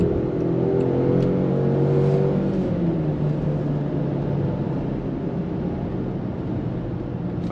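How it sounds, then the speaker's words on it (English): A 2025 Land Rover Defender 110 Heritage Edition accelerates to merge into traffic, heard from inside as a steady, loud engine drone with rising harmonics and constant road rumble throughout. "Let's see how accelerating to get into traffic and merge"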